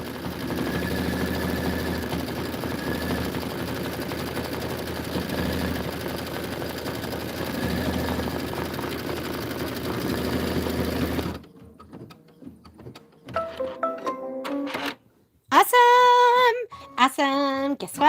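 An embroidery machine sews a satin stitch with a center running stitch for a Kimberbell tile, humming and thumping in a steady rapid rhythm for about eleven seconds, then stops, followed by clicks and a brief melodic chime.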